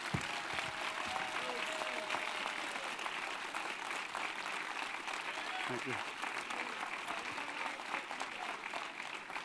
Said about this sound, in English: I just think that we owe him a round of applause.